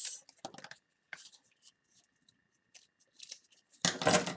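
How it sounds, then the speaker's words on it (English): Large craft scissors slice straight across a flattened cardboard roll in a few quick, close, crisp snips, with a final louder burst of cutting at the end. "I just took my big old Timmy scissors and cut straight across"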